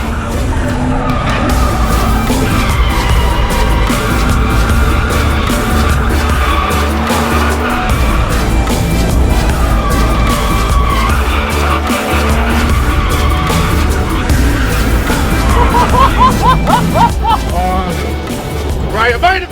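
A car spins and skids through a drift event, its engine roaring nonstop while tires squeal and scrub, heard up close from inside with constant loud vehicle noise and excited voices over it.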